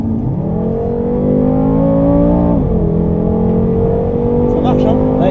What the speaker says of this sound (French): gaz à fond maintenant.